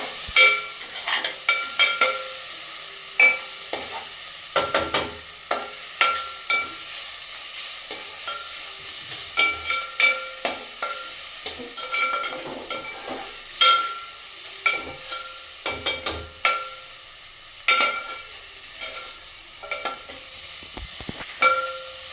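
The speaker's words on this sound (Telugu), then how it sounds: "అల్లం వెల్లుల్లి పేస్ట్ బాగా వేగాలి" Ginger garlic paste fries in a pan for fish curry, giving a crackling sizzle full of irregular sharp pops and spits, with frequent stirring and scraping across the whole stretch.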